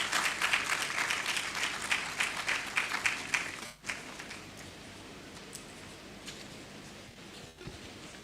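A conference audience claps for a spokesperson coming to the stage, with several seconds of moderate, somewhat distant applause that fades at about the four-second mark, followed by quiet room noise and a few stray claps.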